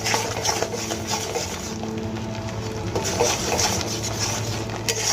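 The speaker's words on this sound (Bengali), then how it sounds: "এবার আমি খুব ভালো করে মশলাগুলোকে কষিয়ে" Ground spices, including coriander powder, fry in oil in a pan for a Bengali katla fish kalia, with a low sizzle under repeated scraping and stirring sounds, close and fairly loud, no talk.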